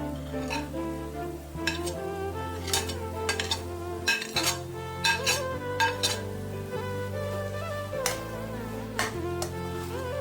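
Grated paneer is being stirred into a pan mixture for paneer bhurji, giving repeated scraping and clinking strokes of a utensil against the pan over a continuous low hum, with no talk.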